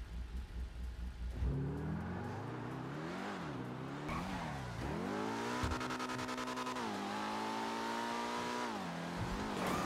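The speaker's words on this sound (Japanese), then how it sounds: "お音がなんかウォンウォンウォンウォンって感じになってますね" A Toyota GR Supra in the game GTA Online revs hard and accelerates. The engine note climbs and falls through repeated gear changes, loud and close, with a brief tire squeal and no talking.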